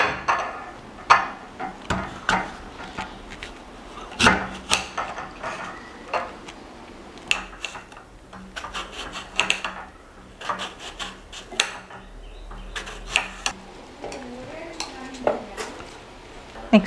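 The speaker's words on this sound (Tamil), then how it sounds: "க்ரீன் ஆப்பிள் கட் பண்ணிக்கலாம்." A knife cuts a green apple on a board for a fruit jelly cake, giving a series of close, sharp chopping taps and scraping sounds in an irregular rhythm.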